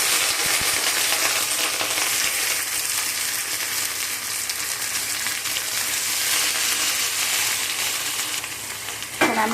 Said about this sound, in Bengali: এবারে কড়াতে ভাজবো। এখানে আমি কড়াতে তেল দিয়ে দিয়েছি।